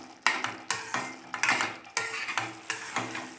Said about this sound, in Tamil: நெக்ஸ்ட்டு கொத்தமல்லி இலை ஆட் பண்ணிக்கலாம். நல்லா மிக்ஸ் பண்ணிக்கலாம்.